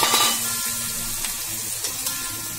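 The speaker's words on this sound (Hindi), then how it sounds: "इसे हम फुल फ्लेम पे तल रहे हैं" Jackfruit koftas deep-frying in hot oil over a full gas flame give a steady, close, dense sizzle with light crackle throughout, no voices.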